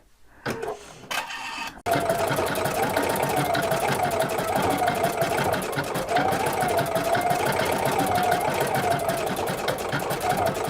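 An embroidery sewing machine stitches out a fuchsia flower design on dark fabric, a fast continuous mechanical whirring hum with rapid needle ticking that runs steadily after a few short bursts at the start.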